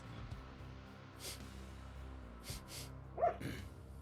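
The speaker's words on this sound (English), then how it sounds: "That is a dog barking." A dog barks in a few short, separated bursts, faint and somewhat distant against a low background hum.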